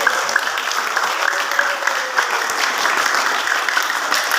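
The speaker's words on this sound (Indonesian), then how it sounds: "Tepuk tangan buat beliau." Audience at a school Maulid Nabi celebration applauding, a sustained, fairly distant patter of many hands clapping evenly throughout with no talk over it.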